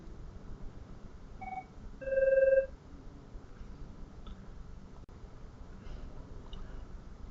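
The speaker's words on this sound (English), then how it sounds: "Excuse me, my phone is going." A mobile phone rings in a lecture room, giving a short, faint electronic tone burst about half a second long. Quiet room noise surrounds it and no one speaks.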